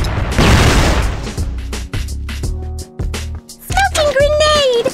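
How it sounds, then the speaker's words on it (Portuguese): A flash bomb goes off in a fast-paced online shooter, a loud broadband burst followed by a string of sharp gunfire-like bangs, with a bright whistling tone rising near the end as players talk over the action. "Flash bomb!"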